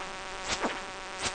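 Hornets in Stardew Valley give a close, steady insect drone with a couple of louder swells as they pass by, heard alone without talk.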